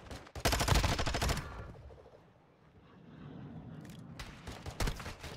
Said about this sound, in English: I'm getting sniped, dude